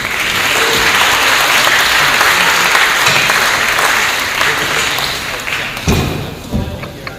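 An audience greets a speaker at a Ruigoord gathering with loud, sustained applause, a dense wash of clapping that thins out into scattered claps and a few thumps at the end.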